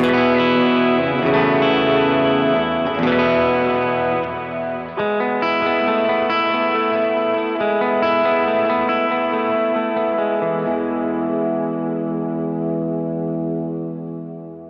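Electric guitar through a Strymon Iridium amp modeler with a Royer 121 cabinet impulse response blended in, playing a series of ringing overdriven chords that strum in and sustain, gradually fading out at the end.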